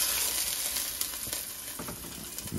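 Pork chops browning in hot oil in a frying pan, an even, moderately loud sizzle with a few soft scrapes and pops, close by and with no talking.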